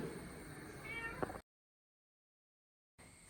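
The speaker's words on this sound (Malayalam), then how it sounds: "അങ്ങനെ മീനാക്ഷി എന്താണെന്ന് അറിയത്തില്ല, രാവിലെ മുതൽ ഇങ്ങനെ കരഞ്ഞുകൊണ്ട് നടക്കുന്നുണ്ട്. നമ്മുടെ മോള് വന്നപ്പോൾ മോളുടെ പൂച്ചയാണ് കേട്ടോ," A house cat meows repeatedly and loudly up close for about a second and a half, then the sound cuts to silence before faint room noise returns.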